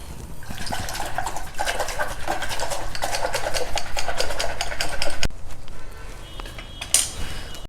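Curd being whisked with water for a South Indian curd-based gravy (morkuzhambu), a busy, steady rattling and sloshing of whisk against bowl, fairly close, stopping abruptly near the end.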